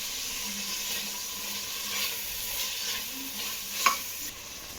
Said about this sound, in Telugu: తర్వాత కట్ చేసి పెట్టుకున్న టమాటా ముక్కలు కూడా వేసేసుకోండి.